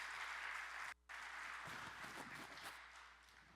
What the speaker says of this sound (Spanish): Para Dios debe ser más fuerte ese aplauso